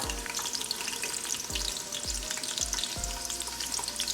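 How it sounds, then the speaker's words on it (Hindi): Chopped onion fries in oil inside a pressure cooker, giving a steady close crackling sizzle broken by a few soft stirring knocks. "प्याज को हम करेंगे फ्राई।"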